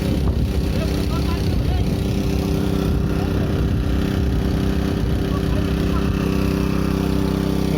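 An engine-driven water pump drains a pond for fishing, a loud, steady, unbroken mechanical drone running throughout at close range.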